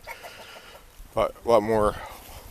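Chickens in a temporary cattle-panel chicken run give a few short, close clucks and a drawn-out squawk, with soft background noise around them.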